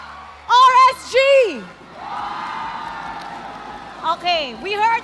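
An esports arena crowd at the Philippine MPL Season 11 playoffs roars in a broad, sustained wave of cheering, with loud nearby whoops and shouted calls breaking out at the start and again near the end.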